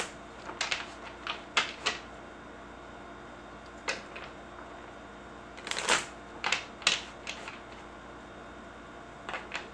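Deck of playing cards being shuffled at a salon table, a series of crisp riffling bursts and snaps spread across the stretch, close and fairly quiet, with no talk.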